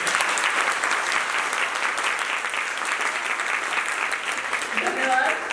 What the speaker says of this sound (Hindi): एक बार जोरदार तालियां बजा लीजिए आपका आयोजन के लिए।